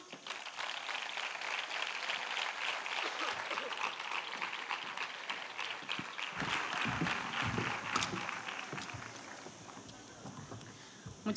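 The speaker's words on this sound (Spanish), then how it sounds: "Un aplauso." Applause from an outdoor crowd at the opening proclamation of the Mijas fair, a sustained, fairly distant clatter of many hands that carries on for several seconds before easing off slightly.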